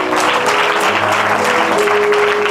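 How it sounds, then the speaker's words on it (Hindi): Loud congregation applause during a Christian sermon in Dandeli, Karnataka, a full, sustained roar of clapping from a large crowd that fills the moment, with a faint tonal voice or music underneath. "हालेलुया, जोरदार ताली बजाइए।"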